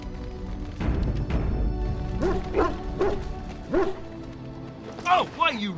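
A dog in the video game Dragon Age: Origins barks several times, a rising run of sharp yips and barks close by over game ambience, with a voice speaking alongside.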